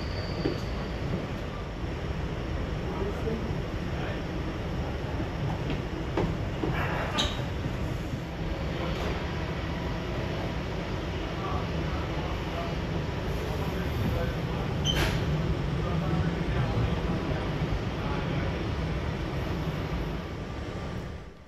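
A Sydney C-set fluted steel suburban train, an old chopper set on a farewell run, rumbles steadily along the rails with a continuous droning roll and occasional squeals and clanks.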